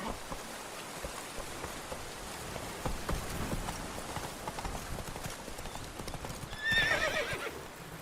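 Roach, the horse in The Witcher 3, gallops with rapid, fairly faint hoofbeats over a rainy backdrop, then gives a brief whinny near the end.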